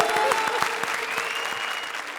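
Applause from a studio audience at the Comedy Circus grand finale, an Indian TV comedy show. Dense, steady clapping fills the whole short stretch at close range, with no voices on top.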